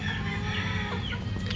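Chickens cluck and chatter continuously inside a brooder, close and fairly loud, with overlapping calls from several birds.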